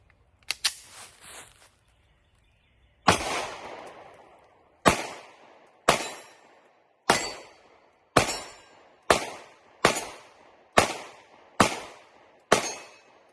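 A Girsan Witness 2311 double-stack 9mm pistol fires a full magazine, opening with a few sharp cracks and then a steady run of about ten loud, evenly spaced shots, each followed by a short decaying echo.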